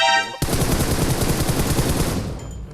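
Rapid gunfire erupts in PUBG Mobile: a loud, close burst of fast repeated shots that lasts about two seconds and then fades, with no talking.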